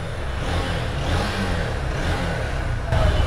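A Honda X-Blade motorcycle engine runs at a steady smooth idle nearby, a continuous low hum with a slight rise in level near the end.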